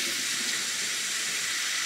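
Water is poured into the tank of a robot floor cleaner used on vinyl panels, a steady, close hissing splash that runs continuously and evenly for the whole moment with no talking.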